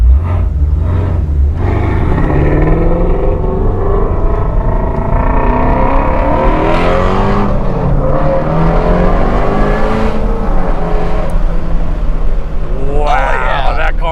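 A Ford Mustang Shelby accelerates on a track, its loud engine rising and falling through revs in sweeping tones, close and powerful, with people talking over it.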